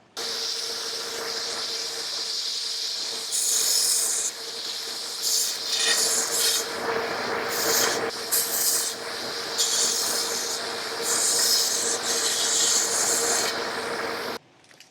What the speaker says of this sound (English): deburr the inside, deburr the outside a couple times with this little Shaviv deburr